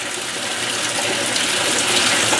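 Water gushes steadily in a strong, continuous rush through high-efficiency washer hoses into a 2016 Speed Queen washing machine, like a tap running full into a basin, with no pauses or voices.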